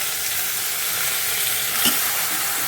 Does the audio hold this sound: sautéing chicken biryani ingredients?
yes